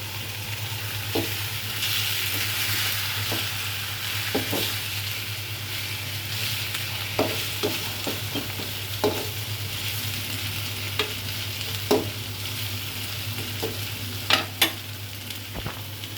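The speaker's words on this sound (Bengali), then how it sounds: "লাল লাল করে ভাজা হয়ে গেছে।" Hilsa fish and onions fry in hot oil under a constant close sizzle, punctuated by repeated scraping stirs and clinks of a spatula against the pan, with no one talking.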